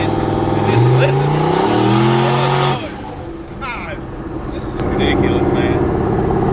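A turbocharged LS engine in a 1971 Chevrolet Impala with a Hellcat pump and intake revs hard and climbs in pitch, then drops off briefly before surging back up loud and close.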